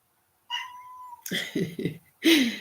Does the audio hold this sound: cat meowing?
yes